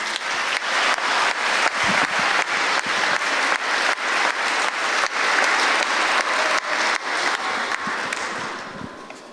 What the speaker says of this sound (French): de Michel Dendarieta, maire des Aldudes, que l'on applaudit aussi.